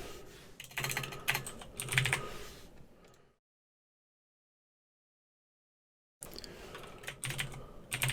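Typing a folder name on a computer keyboard, with quick close clicking keystrokes in two bursts separated by a few seconds of silence.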